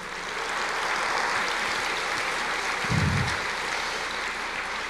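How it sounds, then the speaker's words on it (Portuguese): A church congregation applauding, a dense, steady wash of clapping from many hands that fills the room evenly, with a brief low thump partway through. "aplauda o Senhor"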